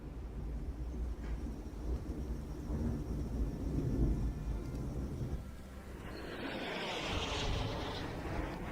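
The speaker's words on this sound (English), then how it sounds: "it sounds like a jet" A jet aircraft roars overhead as a broad, rumbling drone that builds and then fades, with a hissing rush rising late in the pass. No one speaks.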